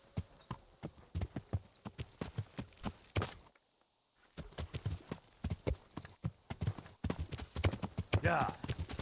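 Rhythmic clip-clop of horse hooves in the video game Kingdom Come: Deliverance at a steady walking pace, pausing briefly before resuming, with a voice speaking over parts of it.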